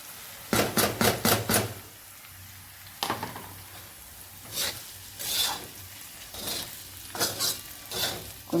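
Dried chilies and garlic frying in an iron pan make a rasping sizzle. Bursts of stirring and scraping come in quick clusters and then at looser intervals. The sound is close and there is no talking.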